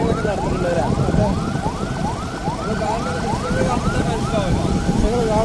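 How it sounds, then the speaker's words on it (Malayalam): An ambulance siren sweeps up and down in repeated cycles, moderately faint and building, over steady traffic noise on the NH66 highway near Payyoli, where service roads are under construction. "ഏതാണ്ട് ഒരു ആംബുലൻസ് അവിടുന്ന് ചീറി പാഞ്ഞ് വരുന്നുണ്ട്"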